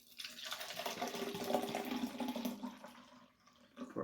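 Hard iced tea, served with lime and salt, pours into a glass with a close, splashing liquid rush, followed by a softer fizzing trickle before the pour stops.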